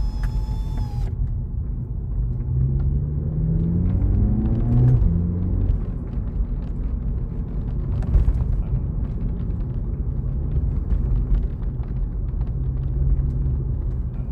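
Low, steady rumble of road noise inside a moving Volkswagen Polo 6C GTI with the windows shut, muffled and constant, with occasional bumps and creaks.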